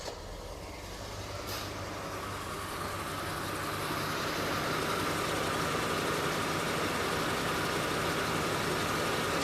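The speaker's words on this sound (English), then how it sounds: "these engines are so quiet from the factory. They sound like a jet engine, like just a turbine." A 1971 Mercury Marquis Brougham with a 429 two-barrel V8 idles smoothly and quietly, a steady low hum with a faint turbine-like whine that holds even and continuous for the whole stretch.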